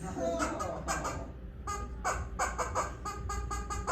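A stand-up comedian vocally imitates a crow and a squirrel, producing short, repeated cawing squawks and chattering bursts in quick rhythmic clusters, close and fairly loud, with some talk mixed in.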